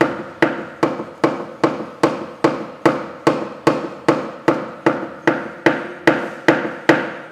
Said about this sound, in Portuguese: Posso usar o martelo, eu ganho um pouquinho mais de velocidade aqui nessa parte de baixo.